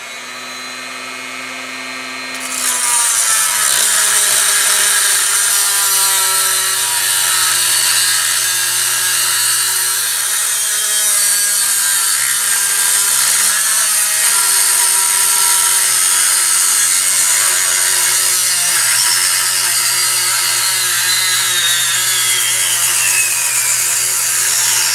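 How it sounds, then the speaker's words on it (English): A Dremel rotary tool cuts through a metal quad rail for a Yugo M70 AK-47, spinning up after a few seconds into a loud, steady high-pitched whine that holds for the rest of the clip. "I'm gonna have to use a Dremel"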